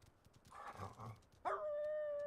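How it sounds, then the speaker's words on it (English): Dogs of the pack in Final Fantasy XVI bark and yip in a short, muffled burst, followed by a sustained tonal sound in the game. "It's the dogs!"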